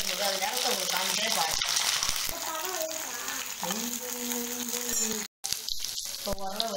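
Pirandai (adamant creeper) sautéing in hot oil, stirred with a ladle, a steady sizzle with occasional scraping, and a voice talking over it throughout, with one brief silent gap.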